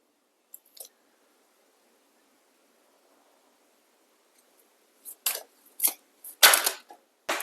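A deck of Moonology oracle cards is shuffled by hand in a quiet room: a faint tap early on, then a burst of crisp riffling snaps and card slaps in the final seconds.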